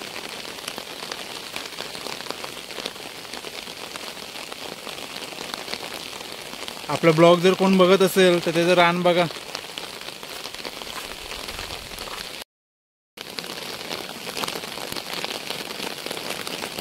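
Heavy rain falls steadily over village farm fields with growing crops and fog on the nearby hills, a continuous hiss throughout, briefly overlaid by a man's speech in the middle.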